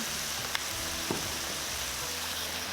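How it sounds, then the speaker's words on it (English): Beef stir-fries in a pan with soy sauce and sugar for a Japanese udon noodle soup, giving a steady, fairly quiet sizzle broken by a couple of faint clicks from the pan. "Stir fry for about a minute. Add the soy sauce and the sugar."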